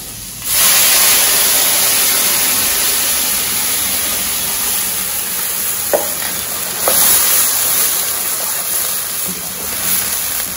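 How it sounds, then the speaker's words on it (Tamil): Curry leaves and lentils fry in about four tablespoons of oil with asafoetida while being stirred, a steady loud sizzle with a few scraping spatula clicks, alone. "இது நல்ல ஒட்டாம கிளறணும்."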